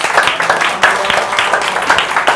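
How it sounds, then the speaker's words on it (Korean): Applause from a seminar audience welcoming a guest lecturer, dense clapping with repeated swells across the short span, fairly loud and close. "박수 반응해 주세요."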